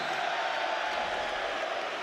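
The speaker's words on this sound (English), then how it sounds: "Big cheer" Arsenal fans in a packed stadium roar for substitute Theo Walcott during a 2006/07 Premier League match against Tottenham, a steady dense crowd cheer with no pauses.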